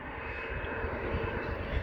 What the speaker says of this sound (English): we have a Learjet